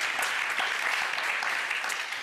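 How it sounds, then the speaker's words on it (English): A live audience at a design event panel gives a warm round of applause, dense and steady clapping at moderate loudness with no talk over it. "give a warm applause to the new panel"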